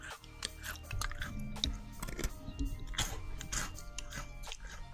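Crunchy food being chewed close up as food ASMR, with repeated bites and crunches over a low background rumble.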